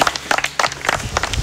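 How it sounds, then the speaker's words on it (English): Group clapping from a presentation audience, a burst of short handclaps with a loose, uneven rhythm, fairly close and moderately loud, with some murmuring voices mixed in. "Give yourself a clap."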